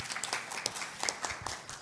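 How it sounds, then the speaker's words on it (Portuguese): An audience at a medical forum applauds the president, a brief patter of scattered claps from a modest crowd, fairly faint and thin, lasting under two seconds. "Vamos aplaudir o presidente."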